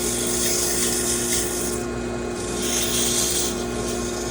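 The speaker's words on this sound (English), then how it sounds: "I'm always kind of switching the area my sandpaper is hitting." Sandpaper rubs against a spinning wooden pepper mill on a wood lathe, giving a steady, close abrasive hiss over the lathe's constant motor hum, with the scratchy texture swelling and easing as the paper shifts along the piece.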